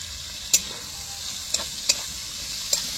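Onion, garlic, green chili and tomato fry in a pan in a village-style kitchen with a steady, even sizzle. A few sharp scrapes of stirring break in at intervals.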